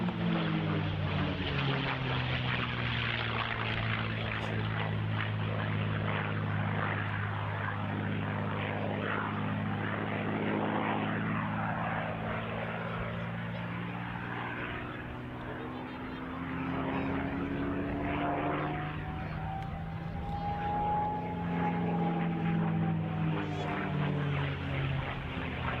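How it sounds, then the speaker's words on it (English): Packard Merlin-engined P-51 Mustang flying past at an RAF Cosford airshow, a loud rumbling piston-engine roar that swells and shifts pitch as it passes, with a public-address voice talking over it. "Packard Merlin engined example of the Mustang, the American automobile manufacturer Packard, producing the famous power plant under license."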